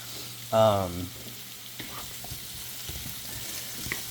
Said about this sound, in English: whether I'm mixing it with the pan itself, giving it some flips, or if you have a spatula, you could do that too